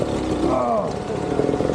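A Gasgas enduro motorcycle stuck in snow revs briefly, its engine note rising and falling close by while people talk over it.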